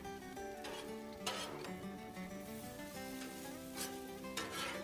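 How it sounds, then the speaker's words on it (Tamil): Vegetables and noodles being stir-fried in a wok for Hakka noodles, a faint steady sizzle broken by repeated scraping and tossing strokes of the spatula. "இப்போ வந்து ரெண்டையும் மிக்ஸ் பண்ணிடுவோம்."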